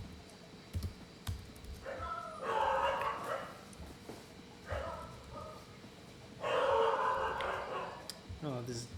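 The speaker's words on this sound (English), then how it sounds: "Oh, these dogs." Dogs bark and yip in short bursts, a few loud clusters spread across several seconds, with some whimpering and a faint tap near the end.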